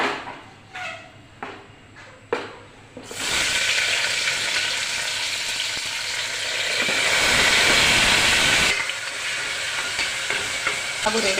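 Onion and tomato dropped into hot tempering oil, a few sharp utensil knocks first, then a sudden loud continuous sizzle that swells and later eases slightly, close by, with no talking.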